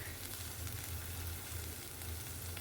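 Ginger garlic paste frying with spices in a pan, a dense, even sizzle with no voices, heard close and fairly soft.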